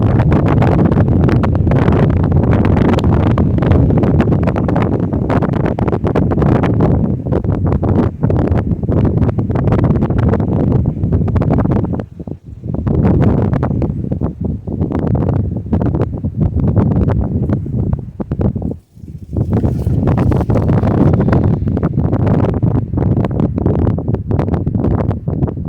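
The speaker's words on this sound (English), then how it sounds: "It's quite windy out here" Strong gusty wind buffeting the microphone in loud, rushing roars that swell and briefly drop away, outdoors with no talking.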